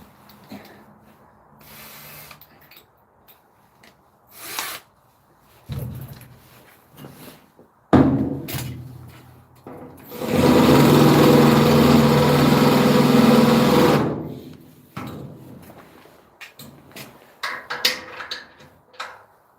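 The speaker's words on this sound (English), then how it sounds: "Let's get a bigger drill bit." Short bursts of a power drill starting and stopping, then a loud sustained whirring for several seconds as it bores, followed by scattered handling clicks.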